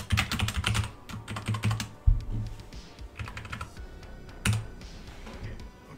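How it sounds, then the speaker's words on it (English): Quick bursts of typing on a computer keyboard, close and crisp, with rapid key clicks in clusters separated by short pauses and a few louder single keystrokes. "when we just type it in here"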